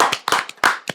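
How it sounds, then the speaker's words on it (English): A single person claps several times in quick, slightly uneven succession, close and sharp, with no talk over it, during a wrestling podcast. "A round of applause to Michael Oakley, man"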